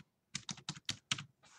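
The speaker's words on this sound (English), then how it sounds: "That's not a very good job typing there." Keys on a computer keyboard are typed in about six quick bursts, tapping close up and fairly quiet, with short pauses between them and no one talking.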